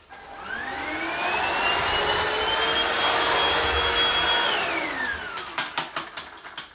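A Vax Slim cordless vacuum cleaner whines as it picks up spilled porridge, its pitch climbing at start-up and holding steady before winding down, followed by several knocks and clatters.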